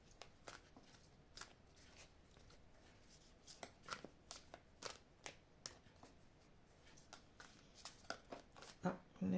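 A deck of oracle cards is shuffled by hand in a rapid run of crisp, snapping riffles that grows busier toward the end, with a voice speaking faintly in the background.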